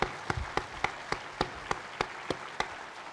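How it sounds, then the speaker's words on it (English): Applause at a university research forum comes as a slow, evenly spaced run of single claps, about ten in a row, crisp and fairly close. "I think we owe an applause for President Chin and his staff here"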